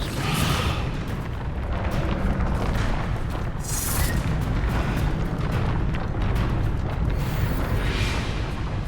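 A Confringo fire spell bursting during a wizard duel in a Hogwarts video game, a loud booming blast amid continuous dense noise of battle effects, with no talking.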